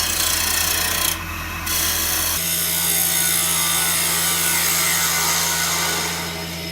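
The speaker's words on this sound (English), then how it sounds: "Starting the lathe back up at about 1800 RPM." A wood lathe spins a wooden blank for an essential oil diffuser at about 1800 RPM, giving a steady, close motor hum with a rasping, rubbing texture that shifts partway through and continues without speech.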